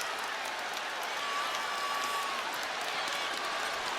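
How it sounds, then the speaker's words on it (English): A basketball arena crowd cheers and applauds during an on-court scuffle, a dense, steady roar of many voices heard from a distance and fairly faint, with no single voice standing out. "And the crowd loves it."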